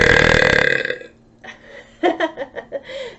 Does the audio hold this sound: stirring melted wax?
no